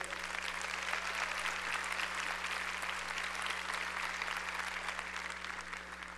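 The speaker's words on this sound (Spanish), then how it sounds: "Démosle un aplauso a todas las mujeres." Audience applause for the women at a church service, a steady dense wash of many hands clapping that fills the whole stretch at even loudness over a low constant hum, with no talking.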